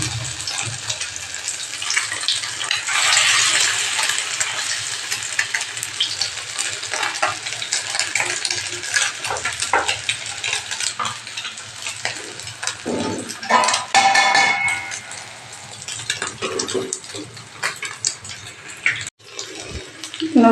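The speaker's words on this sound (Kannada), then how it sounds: "ನೋಡ್ರಿ ಈ ಥರ ಫ್ರೈ ಆಗತೈತಿ." Fish coated in a flour and rice-flour batter fries in hot oil, giving a continuous close crackling sizzle with occasional stirring scrapes and faint voices in the background.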